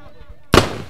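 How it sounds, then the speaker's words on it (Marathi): Two sharp firework bursts crack loud and close, the second shortly after the first, greeting a guest's arrival at a cricket tournament match in Mangrul, following a quiet stretch. "फटाक्यांच्या आतिषबाजीने"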